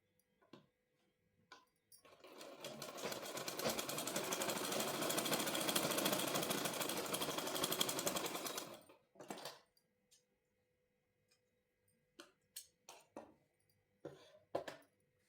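A sewing machine runs a seam on palazzo pants in one steady, rapid mechanical burst lasting several seconds, followed by a few scattered, faint clicks and taps in an otherwise quiet room.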